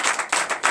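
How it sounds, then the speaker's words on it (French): A church congregation claps in brisk, continuous applause, with many hands blending into rhythmic waves of sharp, dense slaps. "Donnez de vives acclamations."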